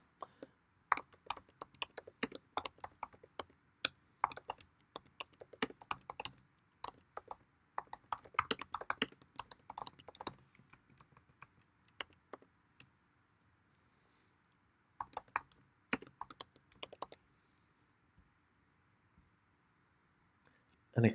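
Bursts of quick, crisp key clicks from a computer keyboard, typed in uneven clusters with pauses between, close and quiet in a still room.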